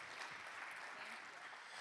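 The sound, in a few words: audience applause for a speaker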